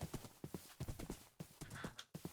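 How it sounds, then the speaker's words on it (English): Horse hooves clip-clop in a steady rhythm in a Minecraft-style video game, close and alone, with short pauses between bursts of quick footfalls. "do need a horse and I use him a lot to get around."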